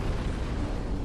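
A dragon in Dark Souls III looses a sustained, roaring blast of fire, a loud, dense rush that fills the whole moment without letup.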